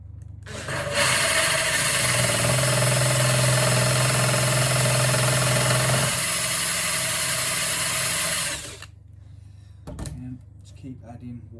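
A drill bores steadily through bathroom tile kept wet with water, a loud continuous whine that runs for several seconds, shifts pitch partway, then stops, followed by a few clunks.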